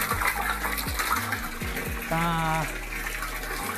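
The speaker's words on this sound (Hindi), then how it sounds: "तो यहाँ पे पानी निकल रहा है।" Cold water gushes out of a pipe at a new home in a continuous, splashing flow, with a louder surge partway through and some faint tonal background noise.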